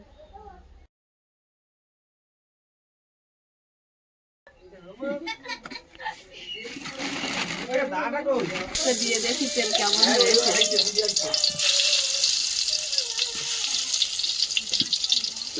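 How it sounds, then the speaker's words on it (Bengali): Eggplant slices dropped into hot oil in a pan set up a loud, steady sizzle that builds and holds, with people talking over it beforehand. "কড়াইতে তেল দিয়ে দেব বেগুনগুলো ভেজে নেব"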